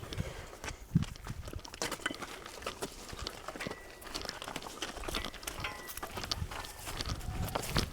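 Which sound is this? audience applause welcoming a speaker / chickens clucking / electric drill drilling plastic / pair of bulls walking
pair of bulls walking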